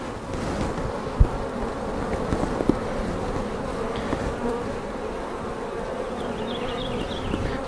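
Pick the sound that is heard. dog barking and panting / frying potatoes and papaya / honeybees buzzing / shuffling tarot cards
honeybees buzzing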